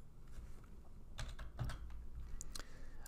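Quiet keyboard typing at a computer while a folder is created, with a few soft scattered keystrokes and small clicks over a low background hum, close and faint, no talking.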